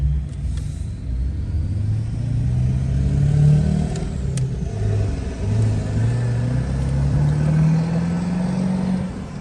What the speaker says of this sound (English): Let's listen to him as he pulls out of this stop sign on the hill